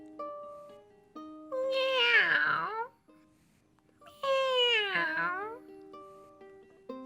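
A cat gives two long, rising-and-falling meows beside a garden pond, each drawn out for about a second with a short quiet gap between them, clear and close against a soft steady background.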